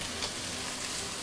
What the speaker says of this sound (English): the moment you put it in, you heard the nice sizzling sound